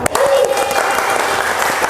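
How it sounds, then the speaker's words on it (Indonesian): Classroom applause after a poetry reading by schoolchildren, a short burst of many hands clapping, close and lively, with a voice briefly audible over it. "tepuk tangan untuk kita semua"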